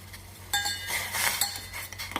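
A small spoon stirs a simmering masala ginger tea decoction, giving a few light metallic clinks against the pot over a steady low hum, with no speech.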